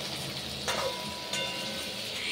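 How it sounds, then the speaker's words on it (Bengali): Potatoes fry with onions in hot oil in a home kitchen, a steady close sizzle broken by a couple of brief clinks, with no talking. "পেঁয়াজগুলোর সাথে এখন আলুটা ভাজা হচ্ছে"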